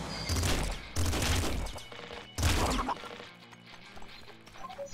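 Gunfire in the video game Nuclear Throne comes as three loud, close bursts of rapid shots separated by short pauses, with quieter game sounds in between.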